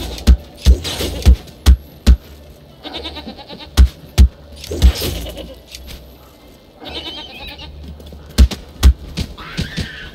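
Goats bleat repeatedly in the video game Falcon Age, with sharp thumping hits and calls coming in bursts, loud and close, with short quiet gaps between them.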